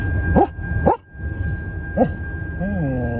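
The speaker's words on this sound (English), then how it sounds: "No, don't bark at the cows." A dog gives a few sharp barks and yips at cows close by, ending in a drawn-out whining howl.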